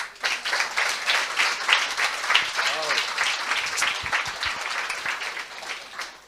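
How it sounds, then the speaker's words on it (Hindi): A congregation at a Hindi-language church sermon claps together, a moderate wash of applause with a few voices audible underneath. "पहले इस वचन के लिए ताली बजाएं"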